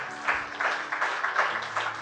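A church congregation clapping hands together during worship, a steady, dense patter of many claps in quick rhythmic bursts, fairly loud and close.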